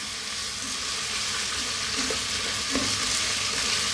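Chicken chow mein with broccoli is stir-fried in a pan, a loud continuous sizzle with the scrape and toss of stirring running throughout.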